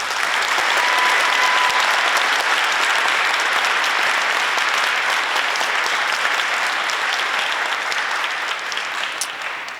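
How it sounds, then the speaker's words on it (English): A school audience at a Veterans Day assembly gives sustained, dense applause, a loud, even roar of many hands that holds steady for nearly ten seconds before easing slightly at the end. "Let's give them all a round of applause."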